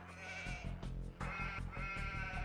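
Sheep bleating in Age of Empires, a run of repeated wavering bleats close and clear, following one another in quick succession with short breaks between them.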